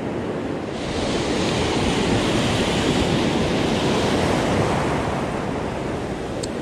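Ocean waves break and wash steadily along Solana Beach in San Diego, a dense, continuous roar of surf with some wind buffeting the microphone and no talking.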